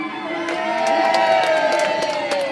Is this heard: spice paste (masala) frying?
no